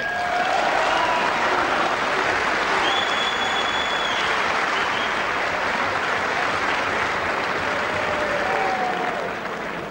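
A boxing arena crowd at a John Doherty versus Pat Doherty bout roars and rumbles steadily, a dense, loud, continuous wash of cheering and clapping with no speech over it.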